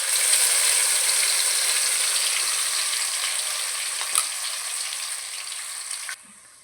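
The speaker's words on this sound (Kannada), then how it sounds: "ಸಣ್ಣ ಉರಿನಲ್ಲಿ ಇಟ್ಕೊಂಡು ಇದನ್ನು ಸ್ಮೆಲ್ ಹೋಗೋವರೆಗೂ ಫ್ರೈ ಮಾಡ್ಕೊಳ್ಳೋಣ." Ground masala paste frying on low heat for a radish curry, a loud steady sizzle that runs continuously with one brief clink of stirring near the end, no talking.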